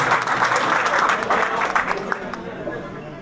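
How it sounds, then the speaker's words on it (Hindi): Audience applause at a live bhajan sankirtan event welcoming a guest, a dense wash of many hands clapping close and loud, slowly thinning toward the end. "जोरदार तालियों से स्वागत करें"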